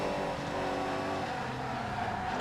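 A steady, droning race car engine from ToCA Race Driver 3 hums continuously at moderate volume in a GT race, with no talking.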